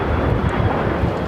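An Air Premia Boeing 787 Dreamliner taking off at LAX, a dense, loud, rumbling jet roar filling a short moment without break.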